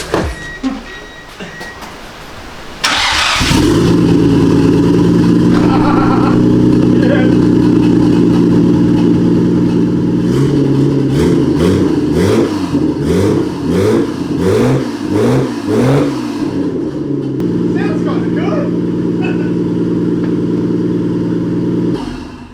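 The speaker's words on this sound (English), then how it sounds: "turn the car on, see how it sounds" A Nissan RB26 twin-turbo engine starts and revs loudly and repeatedly, with rising and falling roars and sharp pops and whooshes from the turbos dumping to atmosphere between revs, close by.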